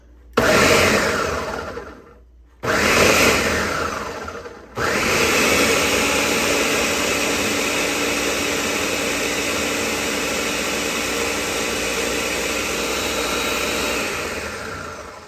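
A kitchen blender whirs loudly, blending a mixture of vinegar, briefly stopping and restarting twice before a long continuous steady run with no talking.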